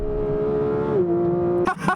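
A 2025 Porsche 911 GT3 engine revs with a loud, strongly tonal howl that holds steady, drops in pitch, then breaks off abruptly as the next gear comes in near the end.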